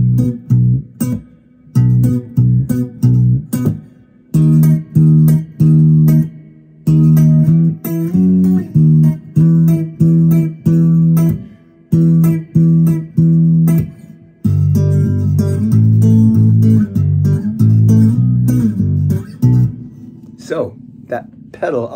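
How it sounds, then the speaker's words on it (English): Electric guitar played through a TC Electronic Nether octave pedal, giving a thick, bassy octave-down tone on a pop riff; close, loud rhythmic funky phrases with short choppy stabs and sustained notes, played alone without talking. "it's called the TC Electronics Nether pedal, and it turns your guitar into a kind of bassy"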